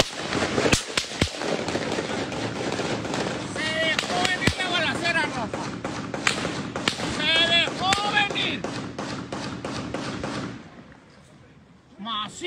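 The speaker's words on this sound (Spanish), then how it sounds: "¡Esos son balazos, raza, eh!" Sharp gunshots crack in rapid, irregular bursts during a clash between the army and a cartel in Caborca, Sonora, while voices shout over them, and the firing stops abruptly near the end.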